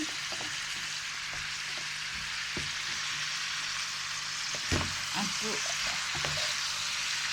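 Paprika pieces fry in hot oil for a large batch of sambal: a dense, continuous sizzle close by, with occasional scraping stirs and one louder clunk of a spatula against the pan.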